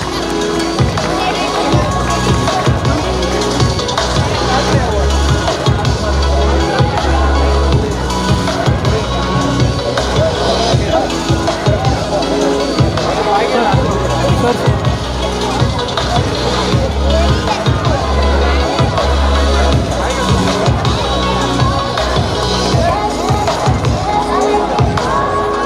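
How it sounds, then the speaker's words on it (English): A large crowd at a youth football grand finals awards ceremony in Bengaluru cheers and shouts loudly, with children's voices, clapping and hubbub in a sustained, dense roar lasting about twenty-five seconds. "Can we have a big round of applause for Lux Sports?"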